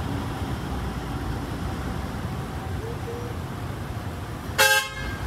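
Car horns honk on a road between Abu Dhabi and Dubai: one brief, loud blast near the end rises above steady traffic rumble.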